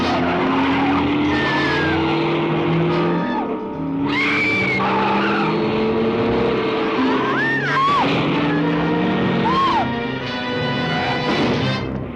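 A car's tires squeal in long skidding screeches in a 1978 film scene where the car strikes a person, loud and close, with several rising and falling squeal tones over engine noise.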